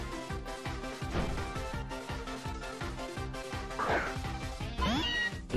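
Meowth's cry from Pokémon Ultra Sun, a short synthesized cat-like meow rising near the end over steady game background music.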